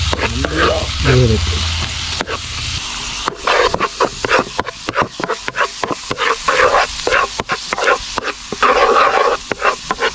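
Onions and tomatoes frying and being stirred in a pan over a village cooking fire, a loud steady sizzle broken by repeated scraping clacks of a spoon against the pan, with a person speaking briefly.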